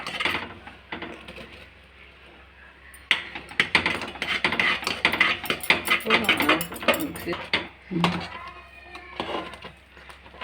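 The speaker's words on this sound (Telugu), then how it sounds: "మిక్సీ వేసుకున్న పూర్ణాన్ని ఇలా కలుపుకోవాలి పాకంలో." Ground chana dal filling stirred into thick jaggery syrup in a pan for bobbatlu, with repeated scraping and clattering of a spoon against the pan in bursts while someone talks intermittently.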